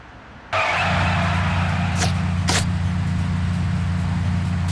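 A car in the Sam & Max Beyond Time and Space game starts up abruptly with a loud, steady engine drone and road rush, with two brief tire squeals partway through.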